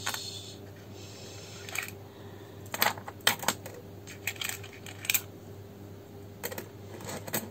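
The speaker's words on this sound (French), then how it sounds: "Soit on a des vieilles pièces de monnaie." Old coins dropping and clinking in scattered sharp bursts, a few isolated taps then clusters of metallic clatter over a low steady hum, fairly close and moderately quiet.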